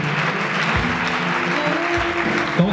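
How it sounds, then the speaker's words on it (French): A church congregation at a worship service applauds and cheers in a dense, sustained wash of clapping, with voices calling out and tonal sounds running underneath. "Donne à Dieu des acclamations multipliées."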